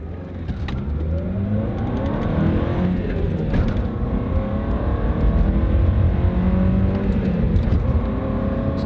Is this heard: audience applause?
no